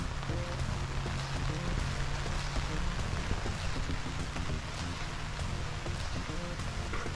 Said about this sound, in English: That was a hell of a rain. Heavy rain, quick.